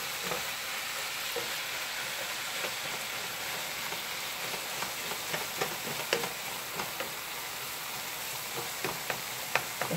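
Tofu scramble with extra spices fries in a pan, making a steady, dense sizzle and crackle throughout, with faint intermittent clicks of a utensil breaking it up, close and even in level.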